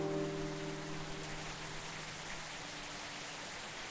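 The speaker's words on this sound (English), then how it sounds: "it is always raining here" Rain ambience in the Coffee Talk video game, a soft, even hiss of steady rainfall, with a faint low tonal hum that fades in the first second.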